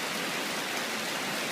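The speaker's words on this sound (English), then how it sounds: "And here's the rain." Steady, even hiss of rain falling outside in Florida fall weather, a soft continuous wash of drops with no voices.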